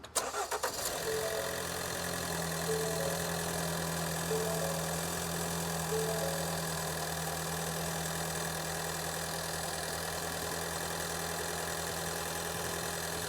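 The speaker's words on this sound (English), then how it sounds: "So now, go ahead and start the engine." A Ford Escape with an intermittent cylinder misfire cranks and fires up, then settles into a steady, even idle heard up close, with a constant engine hum and no talking.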